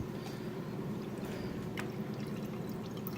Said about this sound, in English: So this little water fountain thing that was at my parents' house, they didn't want, so I jacked it. Turn it on here.